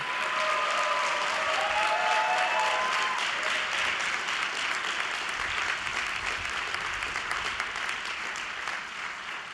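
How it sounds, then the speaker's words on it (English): A large graduation crowd at the Columbia Law School Class of 2023 ceremony applauds the mothers present, broad sustained clapping in a big space with brief voice-like tones near the start, tapering slightly toward the end. "Let's give a big round of applause to all the mothers who are here"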